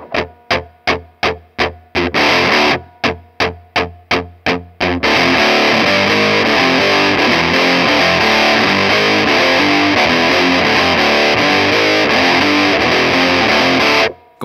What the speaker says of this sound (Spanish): En esta tercera configuración, vamos a lograr una distorsión con buena presencia de agudos y volumen.